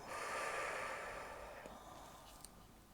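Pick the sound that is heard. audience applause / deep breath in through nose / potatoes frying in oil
deep breath in through nose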